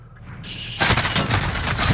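Video game gunfire erupting suddenly into a loud, rapid stream of automatic shots after a quieter lead-in, continuing dense and steady to the end.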